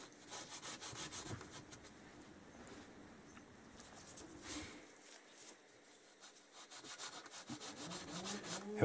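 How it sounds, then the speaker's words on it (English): A red Scotch-Brite pad scrubs the finned engine of a Kawasaki KZ1000J motorcycle, giving repeated close, rhythmic rasping strokes with brief pauses between bursts and no talking. "I'm just using red Scotch-Brite, just to take any residual"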